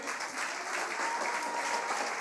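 A church congregation claps together in a steady, continuous patter of many hands, fairly subdued and even in level throughout, with no voices rising above it.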